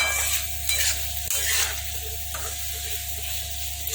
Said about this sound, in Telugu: ఆనియన్స్ మగ్గుతున్నాయండి